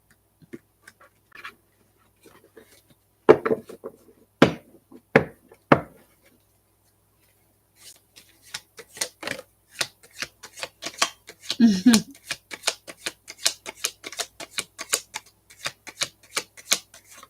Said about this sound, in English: For Namira, let's shuffle